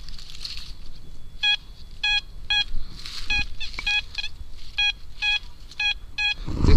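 Metal detector in the field giving repeated short beeping tones for a likely zinc penny, the pulses arriving in a steady series over faint outdoor background noise.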